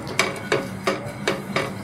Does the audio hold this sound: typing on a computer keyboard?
no